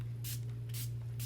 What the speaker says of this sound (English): And see if I spray